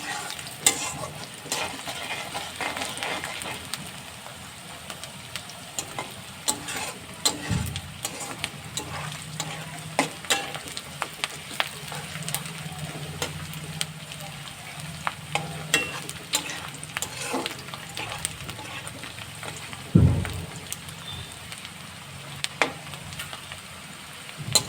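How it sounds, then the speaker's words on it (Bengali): Onions sizzle steadily in a hot pan while a utensil stirs and scrapes them, with scattered clicks and one louder knock against the pan partway through. "এই যে এরকম হবে পেঁয়াজটা, ঠিক এরকম করে ভাজবেন।"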